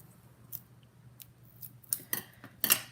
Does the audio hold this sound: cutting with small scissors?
yes